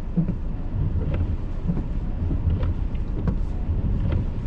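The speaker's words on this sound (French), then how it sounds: "Ah, il commence à avoir de la poudrerie." Gusting wind whips blowing snow across an open frozen area at Laprairie on a February day, a constant low rumbling roar buffeting the microphone with occasional faint rattles, no voices.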